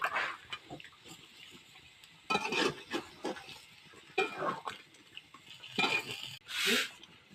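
Fish being stirred and braised in a pan with a little added water, giving close scraping and stirring strokes in irregular bursts over a soft, steady sizzle.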